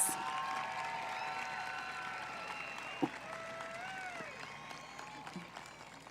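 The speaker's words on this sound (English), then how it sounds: "Let's give one more round of applause to all of our 2025 valedictorians" Graduation crowd at Selma High School applauding the 2025 valedictorians, a steady wash of clapping with a few sharper claps standing out, set against tonal music or sustained notes and some crowd noise.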